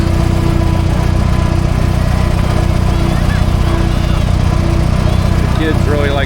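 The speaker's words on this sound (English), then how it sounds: "And Uncle Dennis, he snuck that red tractor in here with us." A red tractor engine runs steadily up close in a steam threshers show parade on a main street, a continuous loud low drone with a few faint whistles and voices in the background.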